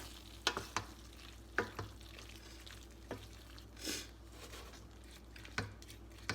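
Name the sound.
stirring garlic and soy sauce into simmering chili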